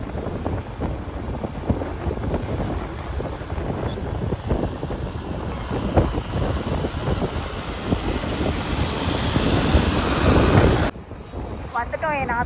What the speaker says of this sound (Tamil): எவ்வளோ வண்டி வருது பாருங்க.